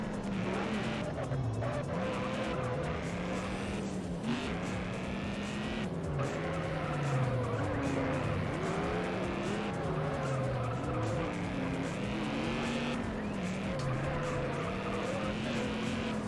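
Race car tires squeal and skid continuously in a racing video game, with engine drone wavering in pitch under the screech, steady and loud for about sixteen seconds.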